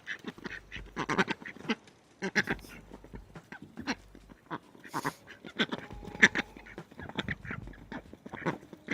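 Ducks at an animal sanctuary quack in loud, chaotic, overlapping bursts, close by and repeating throughout with no talking.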